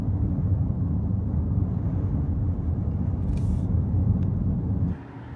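A car drives out of a small rural Kentucky town, its engine and road rumble steady and close from inside for several seconds before easing off near the end, with no talk.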